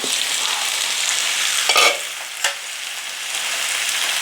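Raw banana stir-fry (kaya upperi) sizzling steadily in a pan as a utensil stirs it, with a couple of sharp scraping clacks of the spoon against the pan midway over the constant frying hiss.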